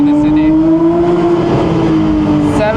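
A car engine revs hard to about 7,000 RPM in first gear, a loud steady high-pitched drone that holds level and climbs slightly over a few seconds, with light road and tire noise beneath.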